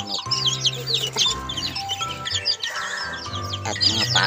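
Chickens cluck and birds chirp busily close by, a lively farmyard chorus of chickens and ducks at morning feeding, with overlapping calls throughout.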